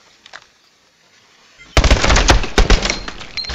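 Gunfire in Call of Duty Advanced Warfare erupts after a near-silent pause, a loud rapid burst of sharp close shots with crackling impacts that keep going to the end.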